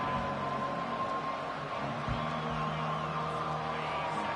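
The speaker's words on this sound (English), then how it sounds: "this home crowd is fired up and ready to make a difference today" A home crowd in the College Football 25 video game cheers in a continuous, steady roar, with faint tonal stadium sounds woven through the wash of noise.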